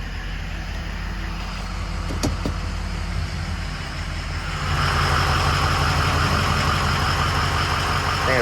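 A truck engine idles with a steady low rumble, growing louder and fuller about halfway through as the vehicle is backed outside, with faint voices in the background.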